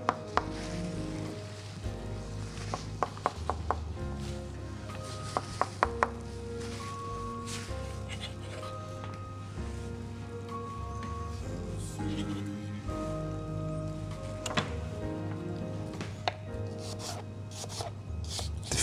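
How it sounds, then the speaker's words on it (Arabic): Apples are chopped on a board with scattered knife taps, some quick runs of cuts and some single knocks, fairly faint under steady background music. "بعد بدنا نفرم شوية تفاح."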